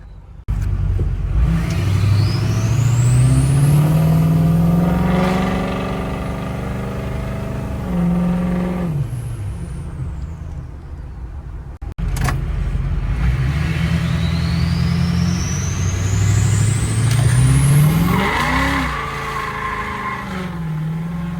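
Ford 6.0-liter diesel pickup engine floored twice at full throttle with a manual shifter, each pull rising in pitch and roaring loudly for several seconds before a brief lift and gear change, close and dominant with no talk.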